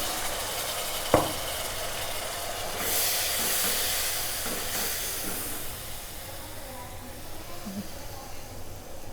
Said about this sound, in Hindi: आपको इसमें सूजी में थोड़ा थोड़ा करके डालते रहें और चम्मच चलाते जाएं।